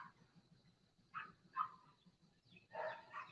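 Dogs barking in the distance, a few short bursts spread across a few seconds over a low steady background hum.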